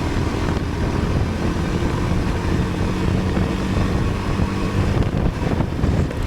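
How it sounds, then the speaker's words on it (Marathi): Steady roaring wind buffeting the microphone over a low motorbike engine rumble, riding fast on an open road in Matheran after the first rain. "गार वारा आणि बाईक सुसाट चालली"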